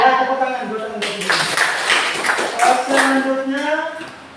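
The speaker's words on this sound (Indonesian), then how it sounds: "tepuk tangan dulu Anda dulu" Classmates in a mathematics teacher-training class clap their hands for a student, a scattered patter of applause under continuous talking voices.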